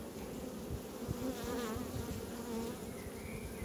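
Honeybees in an opened hive being gently shaken, a dense continuous buzzing close by with a slight wavering pitch and no talk.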